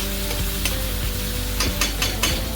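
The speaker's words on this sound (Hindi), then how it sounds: "तो पहले 2 मिनट आप पहले प्याज को ही सॉटे कर लीजिए" Onions sautéing in a pan for Punjabi-style chole, with a steady close sizzle and repeated scraping stir strokes throughout, no voices.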